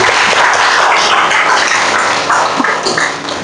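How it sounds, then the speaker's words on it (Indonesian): A classroom group applauds together, dense steady clapping filling the room at close range and thinning out toward the end. "Beri tepuk tangan dulu untuk Cesa."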